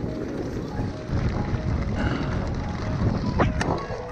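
Strong wind buffets the microphone outdoors at a short film festival, a loud continuous rumbling roar with gusty surges and no clear speech.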